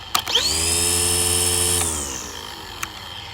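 A Craftsman V20 13-inch cordless string trimmer hums at a steady low-speed whine on its low setting, then spins down and fades, with a faint click afterward.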